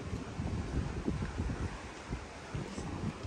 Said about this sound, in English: It's really windy out here too at night.